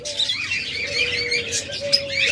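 A caged pair of opaline lovebirds, a green male and a yellow bird, chirp steadily at close range, producing thin, rapid, overlapping twitters over a low, constant background drone.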